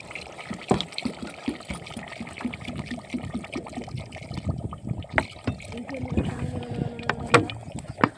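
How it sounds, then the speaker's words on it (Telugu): Water is poured into a simmering home-cooked curry with oil risen to the surface, giving a steady watery splash and trickle of moderate loudness with occasional clinks of utensils. "కొన్ని వాటర్ అయితే వేస్తాను"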